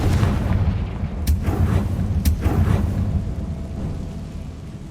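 Fiery Confringo spell blasts in the Hogwarts Legacy video game, two sharp booming bursts over a dense rumbling, thunder-like game soundscape that stays loud throughout.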